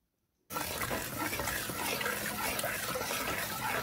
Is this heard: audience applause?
no